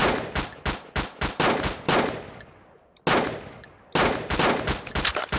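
Rapid bursts of video game gunfire from the shooter Weapon, loud and near, in dense automatic volleys with a brief lull in the middle before firing resumes.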